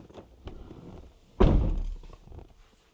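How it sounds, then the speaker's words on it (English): A car door shuts with a single solid thunk partway through, in a quiet setting while a scan tool is plugged in, followed by a brief fading rumble. "I'm just going to close this door so it's nice and quiet."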